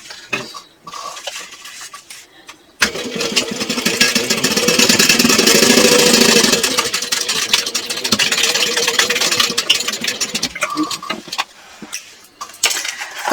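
A sewing machine stitching the pocket sides of a fabric clutch bag, a steady mechanical whir that runs for about eight seconds, building to its loudest partway through, with quieter handling sounds before and after.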